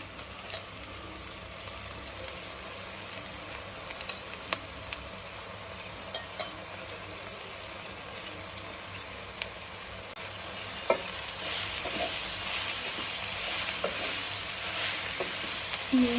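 Gongura curry with channa cooks in a pan, giving a continuous sizzling hiss with scattered light clicks and stirring knocks, growing a little louder toward the end.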